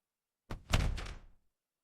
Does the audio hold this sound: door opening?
yes